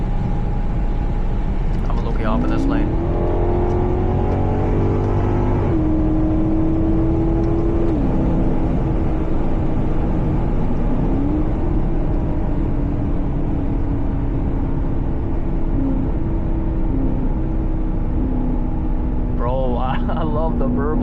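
A Maserati GranTurismo engine drones steadily from the driver's seat while driving, its pitch climbing and settling through gear changes with occasional burbles, loud and continuous under someone talking throughout.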